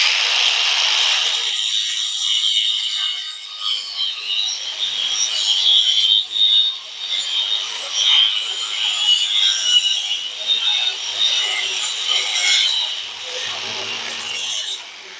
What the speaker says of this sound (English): I'm going to go the caveman route and use an angle grinder.